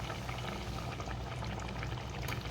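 Fish kuzhambu boils vigorously in a pot, a continuous close bubbling and gurgling with soft pops, steady and fairly quiet, with no voices.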